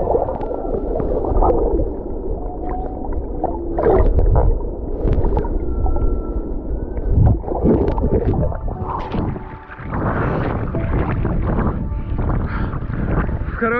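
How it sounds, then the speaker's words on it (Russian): Underwater GoPro recording of whales: several sustained tonal calls and higher squeals ring out against a dense, churning water rumble, close and fairly loud, with no voices. "что записала GoPro под водой, и здесь нет никаких звуковых эффектов."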